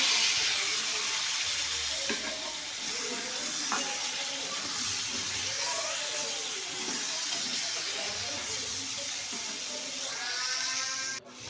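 Eggplant slices fry in hot oil in a wok for neem-leaf eggplant fry, a moderate, continuous sizzle with light stirring clicks throughout and a sudden burst near the end.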